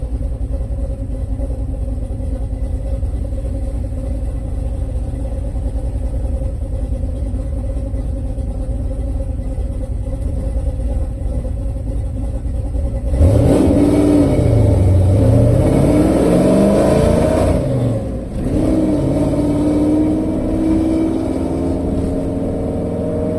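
A rebuilt Ford 351 Windsor V8 truck engine with Flo Tec 185cc heads idles with a steady lumpy rumble, then revs hard and loud for a few seconds, dips, and surges again before settling back.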